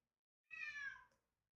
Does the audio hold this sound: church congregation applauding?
no